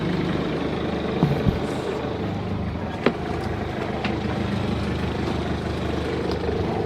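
A sailboat's inboard engine idles steadily in neutral aboard an Oceanis 4 in the Caribbean, a low even rumble running the whole time with a couple of faint knocks and no talking.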